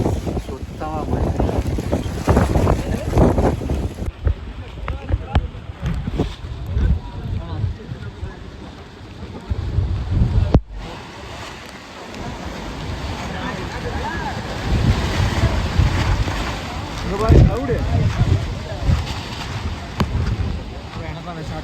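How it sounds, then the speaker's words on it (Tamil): A strong wind and storm on Vellingiri hill, amid heavy rain near Coimbatore. Loud, continuous gusting wind roars and buffets the microphone for the whole stretch, with voices faintly under it. "செம புயல், செம காற்று, செம மழை"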